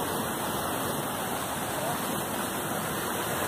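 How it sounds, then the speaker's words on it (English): Water pouring down to turn the wheel of a traditional water-powered flour mill, a steady, dense rushing roar like a small waterfall that holds constant throughout. "the water is coming down from there"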